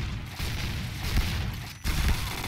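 Gunfire in a bomb-defuse round of a first-person shooter, a dense burst of shots and booming impacts in quick succession, loud and close with a sharp break near the end.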